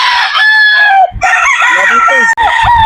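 Brood stag roosters crowing loud and close, several overlapping cock-a-doodle-doo calls back to back with clucking between them.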